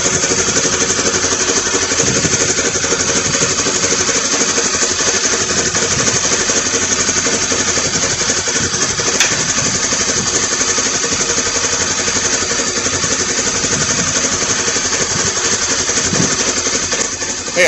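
Polaris Ranger XP 900 EPS engine idling, a loud, steady, close mechanical drone with a fast even pulse that holds unchanged throughout, with no talk.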